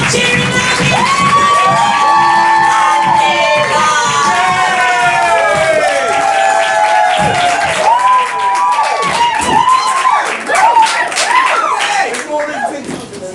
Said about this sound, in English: I want you to start stamping your feet. I want you to start clapping nice and softly.